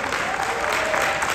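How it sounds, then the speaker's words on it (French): A seminar audience applauds loudly and steadily for a real estate mindset speaker, dense continuous clapping throughout. "Une autre main d'applaudissement."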